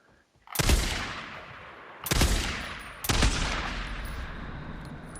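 Three loud, booming BFG sniper rifle shots fired at a bear in the video game Days Gone, each a sharp blast with a long rumbling tail, the second and third about a second apart.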